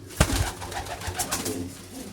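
Kalsira pigeons give deep, throaty coos close by, a soft bump at the start followed by steady murmuring calls with no voices.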